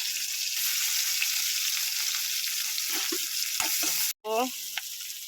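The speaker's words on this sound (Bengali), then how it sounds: "তেল দিয়ে দিলাম পেঁয়াজটা দিয়ে দেবো" Onion frying in hot oil for a simple pasta dish, giving a steady, close sizzle throughout, with a few faint stirring or utensil sounds near the end.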